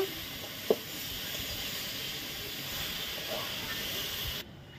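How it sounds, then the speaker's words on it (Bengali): Shredded cabbage with salt and turmeric fries in a pan, giving a steady soft hiss and sizzle that runs evenly throughout, with one brief knock early on, before cutting off near the end. "দিয়ে এখন ভালো করে একটু ভাজা ভাজা করে নেব।"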